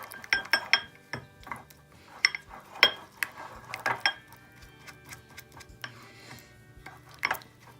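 A hairbrush mixing hair mask oils in a bowl, giving close, irregular clicking taps and scrapes against the bowl in quick bursts with quiet gaps.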